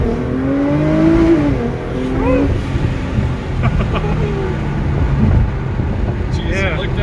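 A Nissan GT-R tuned to Alpha 9 spec, a high-horsepower all-wheel-drive car, pulls hard from inside the cabin, its engine note climbing through rising tones under wind roar while occupants talk.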